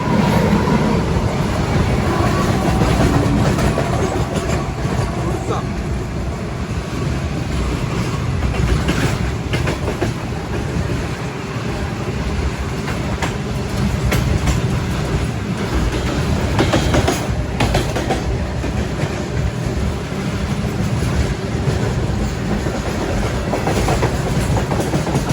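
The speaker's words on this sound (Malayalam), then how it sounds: "അവിടെ ട്രെയിൻ വരുന്നുണ്ട്, കാണിച്ചു തരാം." A train pulls into a station on a Kerala to Delhi journey, its rail cars giving a loud, continuous rumble and rhythmic clickety-clack close by, with no talk over it.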